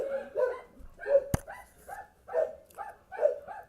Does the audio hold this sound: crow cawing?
no